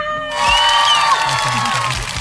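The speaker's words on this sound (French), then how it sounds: "S'il vous plaît, un tonnerre d'applaudissements." A small group of young people cheering and clapping in a burst of excited whoops and shouts, close and lively for about two seconds at a college setting in London.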